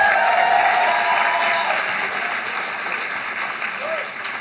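Audience at a business awards breakfast applauding for the DJ, a loud, full round of clapping that slowly thins, with some crowd murmur and a voice over it.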